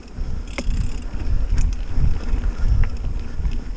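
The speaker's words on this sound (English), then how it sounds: "The wind is nice and cool off Lake Superior." Wind blows off Lake Superior along a wooded trail, a loud, gusty rumble buffeting close to the microphone, with no talk.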